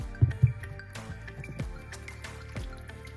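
Beef broth poured into a crockpot for chili: a couple of heavy splashes, then soft dripping and liquid gurgles, close and fairly quiet.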